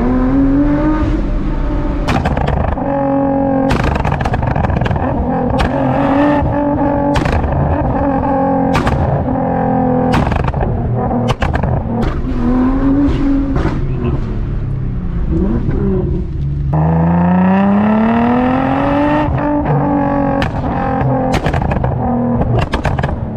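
An 800bhp Nissan GTR engine revs hard again and again, loud and close, with sharp pops and bangs cracking between the rising and falling revs and no talking over it.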